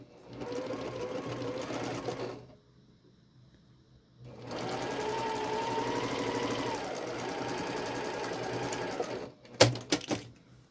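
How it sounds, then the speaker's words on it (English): A home sewing machine stitches quilt block pieces together for a modern building-block quilt, running in two steady bursts separated by a pause, followed by a few sharp clicks and clunks at the end. "So I'm going to go ahead and sew that together."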